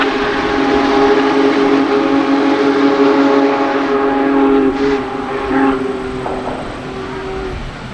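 A Union Pacific special train arrives in Marshalltown, Iowa, sounding a loud, sustained whistle blast for several seconds. A shorter toot follows as the whistle fades, with rail rumble underneath.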